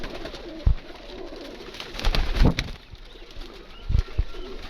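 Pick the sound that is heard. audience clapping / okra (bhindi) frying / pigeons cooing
pigeons cooing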